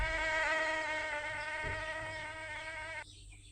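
Steady, high-pitched whine of a mosquito buzzing close by, a thin harmonic drone that holds for about three seconds and then cuts off abruptly.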